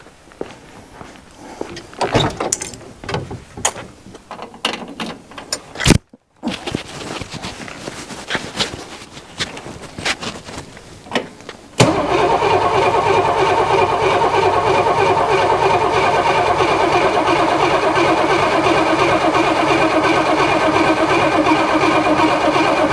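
A long-abandoned 1961 Ford Falcon with a weak battery. First come shuffling and clunking sounds nearby, then at about the midpoint the engine fires and runs at a loud, steady, close idle with no talking.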